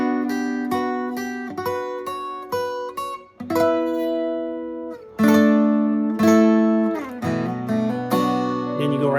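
Acoustic guitar chords strummed in a steady sequence for a worship song, with an extra finger added over a held chord to color it, each strum ringing clearly and close.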